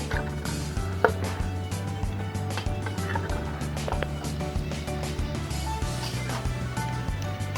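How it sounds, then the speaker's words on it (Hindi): Rainbow rice with chicken is stirred in a pot, giving steady scraping and clinking of a spoon against the pot that runs continuously and fairly loud, with a few sharper knocks. "तो हम इन्हें मिक्स करते हैं"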